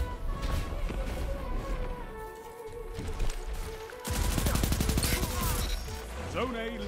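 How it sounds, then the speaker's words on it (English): Bursts of rapid machine-gun fire ring out in an online first-person shooter match, a steady chatter of automatic shots layered with game noise that swells loudest toward the end. "We got a little bit of machine gun."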